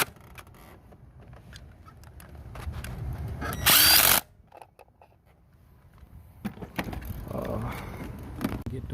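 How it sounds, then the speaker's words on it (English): A power drill drives bolts on a Mercedes-Benz during a gas leak repair: one loud, close whirring burst of about half a second among quieter handling noises. "my drill can come back"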